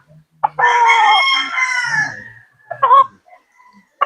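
A gamecock crows loudly once up close, a long drawn-out call, followed by a brief squawk and a short sound at the end.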